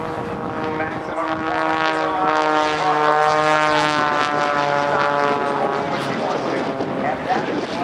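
An aerobatic propeller airplane performs snap rolls at the 2008 NAS Oceana airshow, a loud droning engine with a rising and falling pitch as it maneuvers overhead, heard alone.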